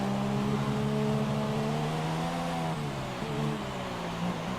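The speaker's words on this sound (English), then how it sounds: "Could hear the engine." Formula 1 car engine in the F1 2017 racing game, Mexico circuit, a steady high-revving whine with stacked harmonics that dips briefly then climbs again, loud and continuous with no talk.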